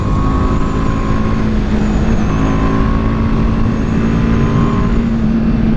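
A BMW G310 R motorcycle ridden fast gives a steady, loud engine drone with a sustained tonal hum and rushing wind, heard close and even with no breaks.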